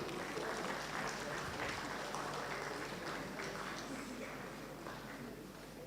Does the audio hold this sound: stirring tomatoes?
no